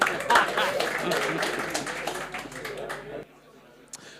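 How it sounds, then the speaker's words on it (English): An audience at a Cheltenham Festival preview night applauds the panel in a dense, sustained wash of clapping that stops abruptly near the end, followed by near quiet and a single late tap. "A big round of applause to our panel"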